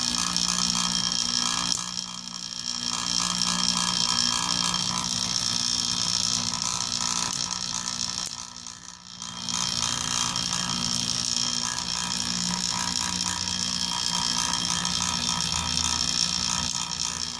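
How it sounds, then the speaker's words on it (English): A vacuum pump runs steadily to evacuate a glass Geissler tube during glasswork, a continuous mechanical hum with a buzzing high whine, loud and close, dipping briefly twice before resuming. "Sorry about the noise, but the vacuum pump's running to try to pump it down."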